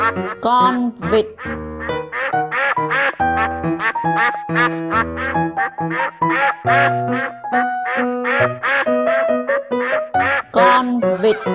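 A flock of ducks quacks continuously and close by, loud overlapping nasal calls tumbling over one another in quick irregular bursts, with no voices.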